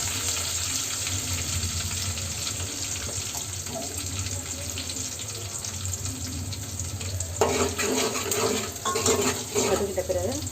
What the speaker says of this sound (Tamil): போட்டு நல்லா வதக்கிக்கணும்.